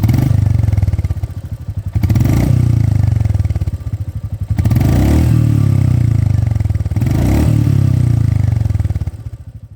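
Royal Enfield Meteor 350 single-cylinder motorcycle engine revved up close in three repeated surges, each throttle blip rising from a thumping idle and settling back between them.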